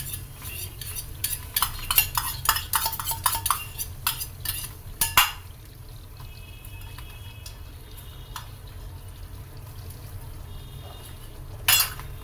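A spoon scrapes and clinks against a pan as whipped yogurt with cashews is stirred into chicken over a low gas flame. The clatter is rapid and busy at first, then slows to sparse taps with a quiet background hum.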